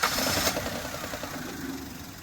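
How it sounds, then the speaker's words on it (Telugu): A 2016 Maruti Celerio VXI automatic starts up, with a brief cranking catch at the very beginning that settles at once into a steady, close idle running alone. "చూసారు కదండి, వెహికల్ సింగిల్ సెల్ఫ్లో స్టార్ట్ అవుతుంది."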